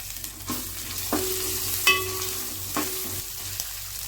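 Chopped ginger frying with onions and turmeric in a pan on the stove for a meal maker curry, a soft steady sizzle broken by a few scraping strokes of a spoon, close and fairly quiet, with no talking.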